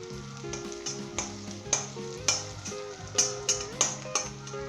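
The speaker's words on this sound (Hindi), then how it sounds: "हमने जस्ट इसे 10 से 15 सेकंड के लिए हमने इसे फ्राई करना था" Spices frying in oil at medium heat for Pakistani boondi salan: a close, continuous sizzle punctuated by regular scraping strokes of a spoon against the pan, with no voices.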